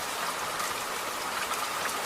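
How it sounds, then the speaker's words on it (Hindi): Rain falls as a sound effect in an animated children's story, an even, continuous hiss of dense drops on the ground, with no voices. "काफ़ी बारिशें हो जाने के कारण ज़मीन में गड्ढे पड़ जाते हैं"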